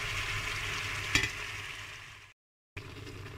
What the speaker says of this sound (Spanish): Voy a marcar y a dorar el magro junto al laurel. Y en cuanto empiece a tomar color, añado los ajos